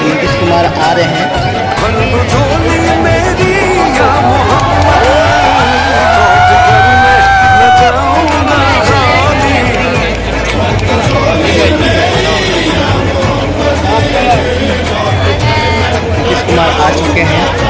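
A large, dense crowd gathers at the Phulwari Sharif dargah awaiting Bihar Chief Minister Nitish Kumar, a steady loud hubbub of many voices with chatter and movement throughout.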